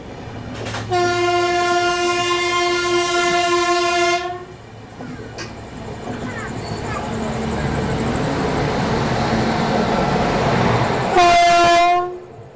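The Lucknow Mail passenger train runs alongside and is overtaken, its long horn blaring loudly at the start, then a steady rushing rumble of wheels and cars, with a second short horn blast near the end.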